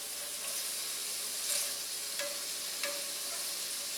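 Shrimp fry in a pan for an Asian-style pasta dish, producing a constant, fairly quiet hiss with a few faint crackles and light utensil taps, with no talking.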